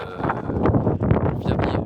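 Wind buffeting a microphone outdoors on an island in the Virgin Islands, a loud, steady rumbling gust noise with uneven surges throughout and no speech.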